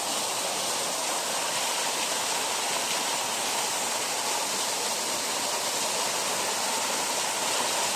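Tundulan Falls in Barangay Alegria, Zamboanga del Norte, a waterfall about 16 feet high, pours with a steady, dense roar of rushing water that holds unbroken throughout.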